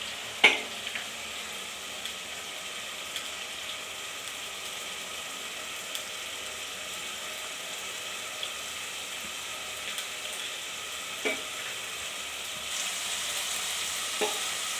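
Sliced green chillies, cut lengthwise, frying gently in a pan over a slow flame, giving a soft steady sizzle with occasional faint clicks of stirring, fairly quiet throughout.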